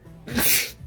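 A single sharp, explosive sneeze bursts out close by, a short breathy blast.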